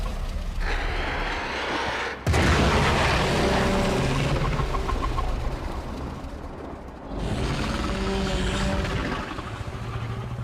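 A loud explosion bursts in the video game Warframe, a sudden broadband blast that rolls on as a sustained roar, then eases into a lower rumble with background game sounds.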